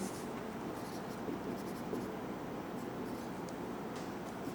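Someone writes out a statistical mechanics problem, a faint scratching of pen or chalk running continuously under a low background hum.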